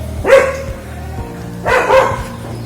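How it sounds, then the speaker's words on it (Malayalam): A dog barks twice near a forest tree house in Thekkady, Kerala, a sharp bark and then another after a short pause, moderately close. "ഇത് ആക്ച്വലി അടുത്തൊരു പട്ടിയുണ്ട്. അതിന്റെ കർച്ച ഇടയ്ക്കിടയ്ക്ക് കേൾക്കാൻ തോന്നുന്നു."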